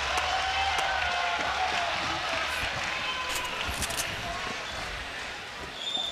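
Crowd at a live Fortnite esports tournament grand final at PAX West applauding and cheering, a dense, steady wash of clapping and noise that fills the whole stretch, with a commentator's voice faintly underneath.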